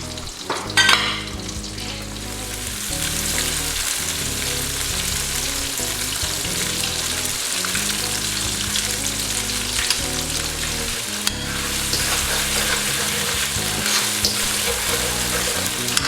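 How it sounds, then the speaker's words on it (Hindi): Eggs fry in hot oil in a pan for egg fried rice, giving a loud, dense, continuous sizzle and crackle close by, with a few stirring knocks and no talking. "जैसे ही तेल गर्म होगा तो मैं एग्स को फ्राई कर लूंगी।"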